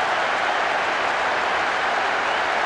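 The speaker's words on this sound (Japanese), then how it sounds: "スタジアム中が大歓声で揺れています。" A stadium crowd roars in a soccer video game, a J.League match between Vegalta Sendai and Ventforet Kofu, as a dense, steady wash of cheering with no breaks.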